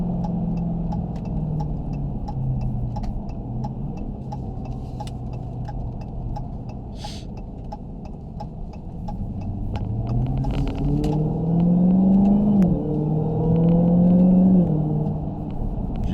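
2020 Dodge Challenger Hellcat Widebody with a manual-mode shifting gearbox, driven from inside: a steady low engine rumble that climbs in pitch through a rising rev near the end, loud and continuous with faint ticking above.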